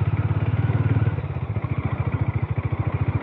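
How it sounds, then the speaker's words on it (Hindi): A Harley Davidson X440 motorcycle rides over a rough, potholed and stony road, its single-cylinder engine thumping in a steady, close rhythm under a rumbling wash of wind and road noise. "ये देखिए गड्ढों में भी पत्थरों में भी बहुत ही स्मूथली ये चल रहा है।"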